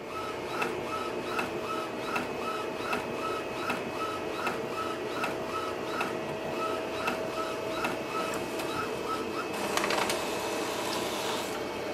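An Epson WF4830 inkjet printer runs a nozzle check sheet, its print head shuttling back and forth in a steady repeating rhythm of whirs and clicks, close and continuous, with a louder mechanical burst near the end.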